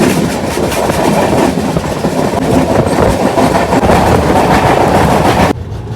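Kanchanjungha Express rolling along at steady speed, a loud, continuous rumble of wheels and carriage with rhythmic clatter filling the whole stretch, easing to a softer, quieter rumble near the end.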